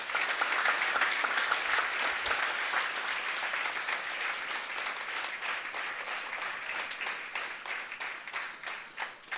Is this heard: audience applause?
yes